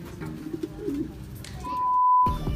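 A large racing pigeon coos in a loft, a soft low rolling coo repeated close by, followed by a short steady whistle-like tone and a brief pause.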